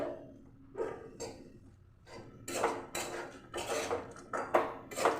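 A spatula stirs frying semolina in a pan, making a series of soft, uneven scraping and clattering strokes that grow busier and louder toward the end, with no talking.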